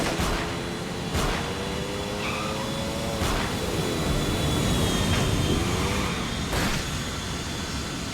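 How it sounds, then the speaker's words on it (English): Bulgarin's private jet roaring on a runway as it takes off during a GTA IV: The Lost and Damned airstrip scene, a steady loud engine drone with a whining turbine tone and a few sharp bursts layered over it. "storms the airstrip just as Bulgarin's jet is on the runway about to take off"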